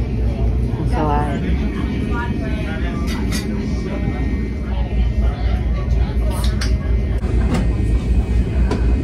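Steady rumbling and rattling of a Brightline passenger train carriage in motion between Fort Lauderdale and Miami, a constant low drone with faint clatter and muffled voices in the background.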